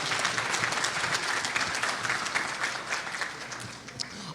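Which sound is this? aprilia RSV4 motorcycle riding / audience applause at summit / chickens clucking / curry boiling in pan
audience applause at summit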